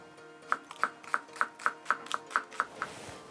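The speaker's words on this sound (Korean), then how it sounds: "대파 20cm 사용합니다. 예, 반으로 이렇게 나눈 다음에요." A knife chops through a 20 cm green onion (daepa) on a cutting board: about ten crisp, evenly spaced cuts, close and clear, with no talking.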